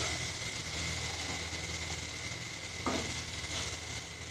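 Boiled potatoes stirred into spice masala in a pan while cooking vada pav, giving a steady frying sizzle with soft stirring scrapes throughout and a brief clatter of utensil near the end.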